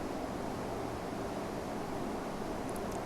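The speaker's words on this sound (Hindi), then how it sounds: "पास वाली जो नदी है आज उसका बहाव बहुत ज़्यादा है" A strongly flowing nearby river makes a continuous broadband rushing roar that fills the whole clip steadily, with no speech over it.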